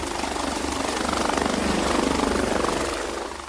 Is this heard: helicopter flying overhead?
yes